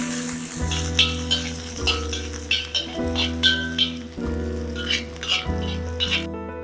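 Small diced carrots stir-frying in a pan for fried rice, a steady bright sizzle with rhythmic scraping stirs roughly every second, while a low musical backing plays underneath.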